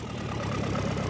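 An overhauled engine idles in a workshop during a test run, a steady low rumbling drone with a soft regular knock, close and continuous.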